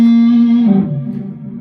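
A distorted electric guitar plays a short lick, ringing out with a sustained bent note that slides down and fades, alone and up close.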